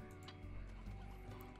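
Electronic music with a steady tonal hum plays while a hen-like clucking sound from the video game Slime Rancher chirps briefly over it.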